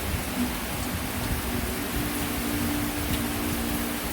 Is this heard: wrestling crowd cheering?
no